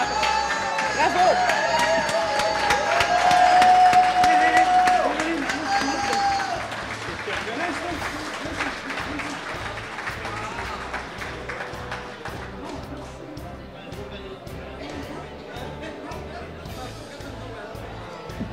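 Audience applause at a benefit cocktail event, dense loud clapping from a crowd that swells early, then thins into scattered claps and murmuring chatter.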